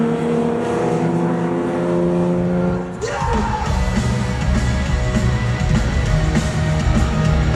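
Classic racing cars thunder past at the Castle Combe Autumn Classic circuit, a loud, dense engine roar that shifts pitch as one car gives way to the next and holds throughout.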